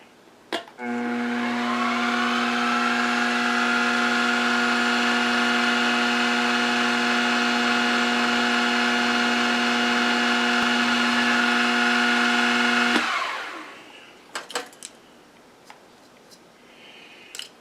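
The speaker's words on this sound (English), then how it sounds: "I'm just going to put a spotting drill down." A lathe spins steadily with a tonal machine hum for about twelve seconds while a spotting drill is fed in, then winds down, followed by a few sharp metallic clicks and taps.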